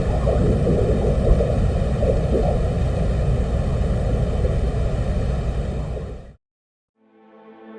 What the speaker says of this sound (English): And this is what it sounds like on the surface of the planet.